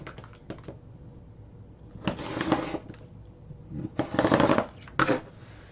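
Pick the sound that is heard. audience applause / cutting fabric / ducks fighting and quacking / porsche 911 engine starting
cutting fabric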